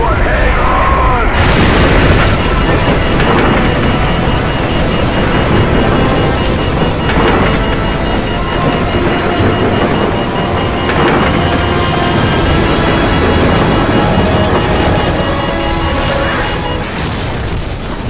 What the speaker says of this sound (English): What appears to be an explosion in epic proportions.